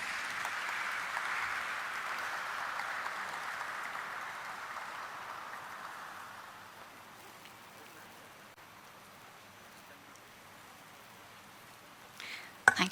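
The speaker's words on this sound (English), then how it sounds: "Let's hear a huge round of applause for her, please." Audience applause at a corporate event for Krssna Diagnostics welcoming the Managing Director, a broad steady clapping wash that fades gradually after about six seconds, ending with a few brief louder sounds.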